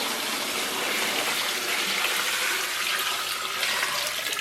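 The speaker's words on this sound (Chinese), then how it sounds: "然后咱们锅里边稍微来点水。" Water pours steadily into a cooking pot holding beef hooves, a loud continuous gushing splash that fills the whole stretch with no talk over it.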